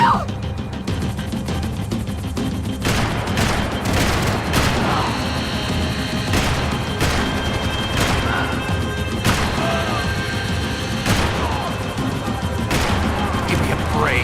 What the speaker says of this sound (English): He's gonna shoot!